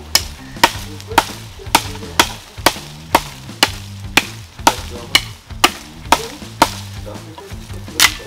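A forged XC75 carbon-steel bushcraft knife with a hamon chops into wood, landing about fifteen sharp, evenly spaced strikes over eight seconds, each a crisp close thwack with a short woody ring.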